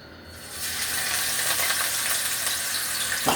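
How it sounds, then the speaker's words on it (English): A chicken roll-up dropped into hot grease sets off a sudden bright sizzle that stays loud and steady, a crackling, bubbling fry with a small clink near the end. "the grease is still hot, and that's what we want. So we're going to go ahead and put the first roll in"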